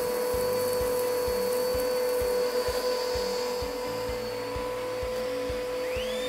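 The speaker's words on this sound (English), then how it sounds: "Now, we will vacuum up this cup of dirt and check the airflow speed." A vacuum cleaner runs with a steady high whine while sucking up a cup of dirt, rhythmic low thumps and rattles of debris passing through the hose repeating under the motor drone.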